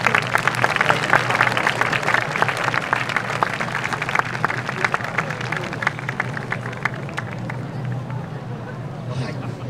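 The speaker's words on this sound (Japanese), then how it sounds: "皆様改めて大きな拍手をお願いいたします。" A crowd claps loudly at an awards ceremony for a dance festival, producing dense sustained applause with some crowd murmur underneath that gradually thins and fades toward the end.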